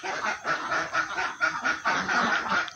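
Ducks in a dry pen on an Indonesian duck farm give a steady, loud run of nasal quacking and honking calls that overlap and pulse throughout, with no talk.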